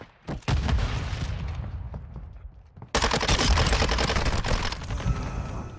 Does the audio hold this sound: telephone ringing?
no